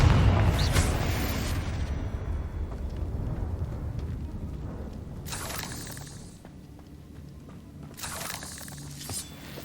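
A Confringo explosive spell goes off in Hogwarts Legacy, landing as a rumbling blast at the start that fades into ambience, followed by a couple of shorter crackling bursts later on.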